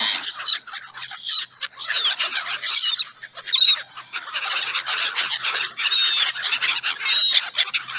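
Seagulls flying around call constantly, a dense overlapping chorus of loud, harsh squawks and shrill cries nearby, with no voices.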